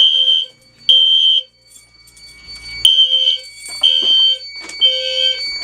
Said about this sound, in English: You can hear the low frequency sounder through the vent, and it makes a really cool noise.